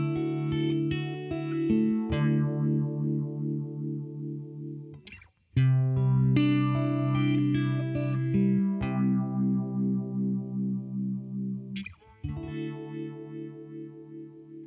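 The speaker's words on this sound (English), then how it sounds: "We're using the Moog MP201 as our controller to control the speed of the Phaser." An Empress Effects Phaser with its sweep speed switched between a slow and a medium-fast preset by a Moog MP201 controller, heard on sustained electric guitar chords that swirl and shimmer, with brief breaks between strums.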